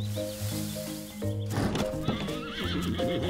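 Over sustained music, a horse gives a loud, trembling whinny with hooves clopping, the neigh rising and falling for a couple of seconds.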